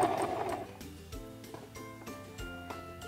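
A Singer Promise II 1512 sewing machine stitching fabric and reversing a few stitches, a quiet, close, steady mechanical whir with a regular rhythmic needle beat.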